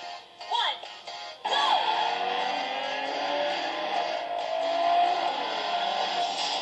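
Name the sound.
car racing video game on ZTE Blade phone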